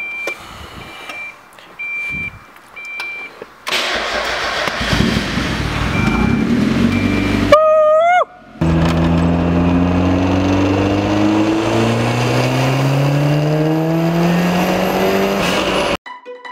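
Mazda Miata Roadster cranks over and fires after some faint beeps, then revs hard in a long full-throttle pull whose pitch keeps rising loudly and close by before it cuts off.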